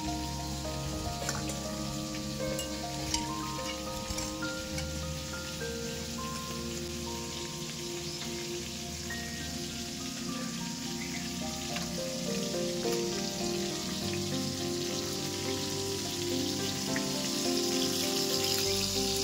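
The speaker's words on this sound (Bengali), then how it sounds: "মাছগুলো ভাজা হতে থাক" Koi fish fry in hot oil, a continuous crackling sizzle with fine spattering pops holding steady throughout, with no voices.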